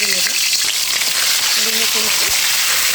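Chopped onions fry in hot oil, a loud continuous sizzle and crackle close up, with brief bits of voice now and then over the hiss.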